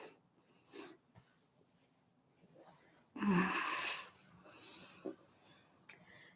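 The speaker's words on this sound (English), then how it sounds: "we might take a few deep breaths" Slow, deep breaths during a quiet restorative yoga session: a long, breathy exhale swells up and fades, followed by a softer breath, with faint rustles around it and no talking.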